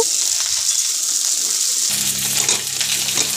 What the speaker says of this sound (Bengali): একটু নাড়াচাড়া করে এটাকে ভেজে নেব এর মধ্যে দিয়ে দেবো এবার আলু